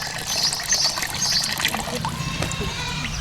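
Water running from a tap in the middle of a desert village yard, a steady close splashing trickle with faint clinks, continuous throughout.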